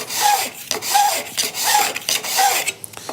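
Steel file drawn along the edge of a card scraper, four rhythmic rasping strokes close to the mic, each a gritty scrape with a faint metallic ring, evenly spaced and alone.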